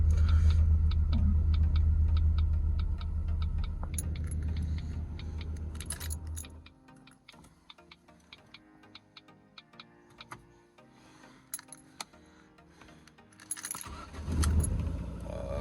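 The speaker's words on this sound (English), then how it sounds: "That's the exhaust touching subframe." A low car engine rumble with metallic rattling and ticking from the exhaust touching the subframe, fading to scattered clinks and taps, then the rumble briefly returns.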